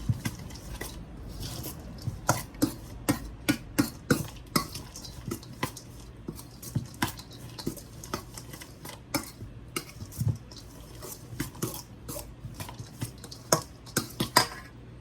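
A spoon scrapes and clinks against a bowl while ingredients for ducana, including raisins, are mixed together, giving quiet, irregular taps and knocks in a soft rhythm with no talking.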